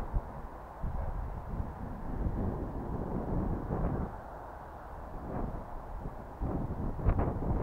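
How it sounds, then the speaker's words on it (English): Gusty wind blows outdoors in the evening at a rubber band biplane flying field, a rough broadband rumble and buffeting against the microphone that swells and eases in waves, with no voices. "the wind usually dies down in the evening. It seems to be picking up here"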